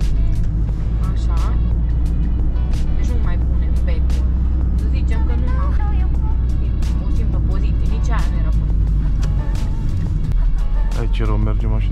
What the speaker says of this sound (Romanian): Ce rău merge mașina asta când e rece.